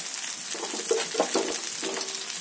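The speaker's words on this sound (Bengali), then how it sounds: "পেঁয়াজ কুচি এবং কাঁচা লঙ্কা কুচি এর মধ্যে দিয়ে দিলাম।" Chopped onion and green chilli hit hot oil in a pan for a Bengali eggplant dish, giving a steady close sizzle with a few louder stirring scrapes and crackles partway through.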